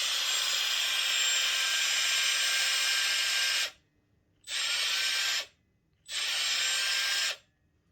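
A Makita DBS180 cordless belt sander running at its slow 600 RPM setting, a loud steady high whine that runs several seconds, then cuts out and restarts twice in shorter bursts with silent gaps between.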